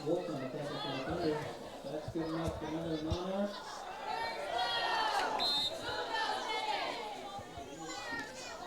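Crowd noise at a North Central vs Warner high school football game as the chain crew moves for a first down, with children's voices and chatter rising and falling continuously throughout, fairly close and busy.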